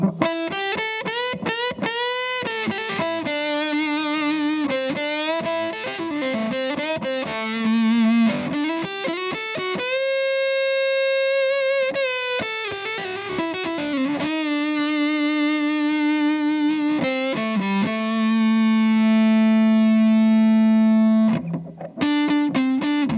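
Hagstrom Swede Gold Top electric guitar with the tone control rolled off, playing a distorted, warm lead line alone at close range, with bends, held notes and runs of quick phrases.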